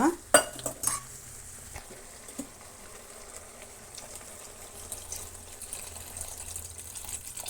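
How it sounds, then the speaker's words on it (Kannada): Clattering of a utensil against a pan as water is added to okra gojju, then a quiet low sizzle and soft stirring scrapes continue steadily. "ಈಗ ನಾವು ಅದಕ್ಕೆ ತಕ್ಕಷ್ಟು ನೀರನ್ನು ಸೇರಿಸೋಣ"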